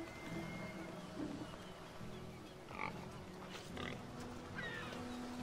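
Pig grunts and oinks from Assassin's Creed Odyssey come in short bursts over a busy game soundscape of ambient noise and music, with a few louder calls around the middle of the clip.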